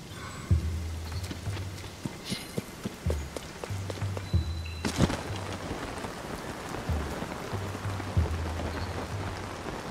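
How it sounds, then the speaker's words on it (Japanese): Steady rain patters on a paraglider canopy in the Zelda: Tears of the Kingdom video game, a dense crackling hiss with scattered heavier drops and low rhythmic game tones pulsing beneath. "パラセールに雨が当たる音"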